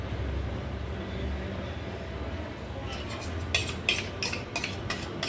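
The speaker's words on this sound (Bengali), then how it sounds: "এবারে আমি এটাকে ভালো করে মিক্সড করব।" A spoon stirs semolina, sugar and yogurt batter in a bowl: a steady low scraping bed, then a run of bright, irregular clinks of metal against the bowl in the second half.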